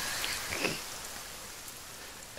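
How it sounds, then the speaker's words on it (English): Steady, dense rain in the video game The Forest hisses loudly on surfaces, a constant wash of patter with no voices. "That rain is freaking loud."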